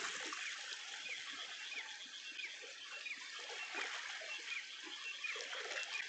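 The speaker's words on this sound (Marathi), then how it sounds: "नदी वाहून चाललेली" A monsoon-swollen village river flows and trickles steadily at a moderate distance, a continuous rushing wash with faint bird chirps scattered through it.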